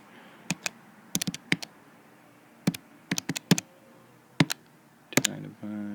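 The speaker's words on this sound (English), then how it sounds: "if we type that into our calculator" Numbers being keyed into a calculator, heard as short plastic clicks in small irregular clusters of two to four presses, close and clear in a quiet room.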